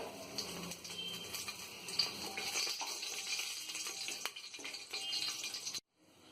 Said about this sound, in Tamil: மிளகு, ஒரு ஏலக்காய், ஒரு அனேசா, அப்புறமா 3 கிராம்பு. இது 3 கொஞ்சம் ஃப்ரை ஆகட்டும்.